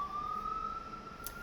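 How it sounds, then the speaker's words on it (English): A steady emergency siren tone holds through a New York City street, loud and continuous with traffic rumble beneath, as a vehicle goes by. "There's the sirens going by"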